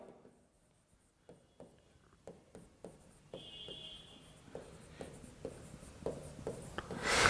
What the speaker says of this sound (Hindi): मैं यहां लिख देता हूं